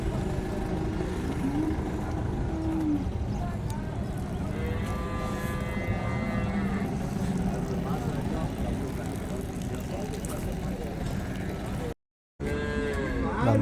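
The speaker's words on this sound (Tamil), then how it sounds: "நம்ம நாட்டு மாடுங்க." Native cattle moo repeatedly at Vaniyambadi cattle market in Tamil Nadu, long lowing calls rising over a busy outdoor murmur of crowd talk. Several animals call at different distances, and a brief dropout breaks the sound near the end.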